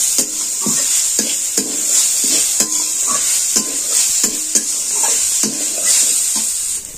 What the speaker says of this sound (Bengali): আমি প্রথমে এই যে নারকেলকে কুড়ে রেখেছিলাম, আমি এটা দিয়ে দিচ্ছি। একটু নেড়ে চেড়ে নিচ্ছি।